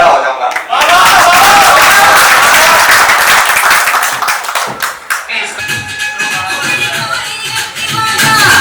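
Dense, loud audience applause and clapping at a celebration event welcoming a dance performance, sustained throughout with crowd noise and some voices mixed in.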